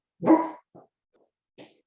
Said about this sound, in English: I have to go get the puppy, otherwise she's going to keep barking